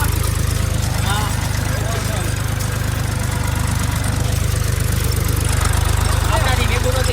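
A tractor engine idles on a farm field of pigeon pea, a steady, loud, low rumbling drone with an even throb throughout, while voices talk over it.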